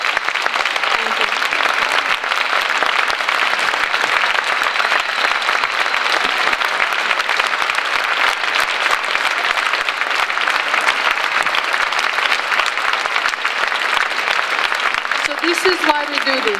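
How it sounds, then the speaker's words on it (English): Dense, sustained applause from a large audience at an in-person gathering, loud and continuous for well over fifteen seconds, with faint voices mixed into the wash of clapping. "Please give him a big hand of applause."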